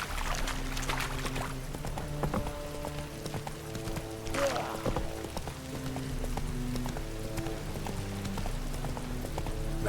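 Roach, a horse in The Witcher 3: Wild Hunt, moves along with a steady rhythm of hoofbeats, fairly quiet, under a low game soundtrack and ambient background with brief voice-like sounds.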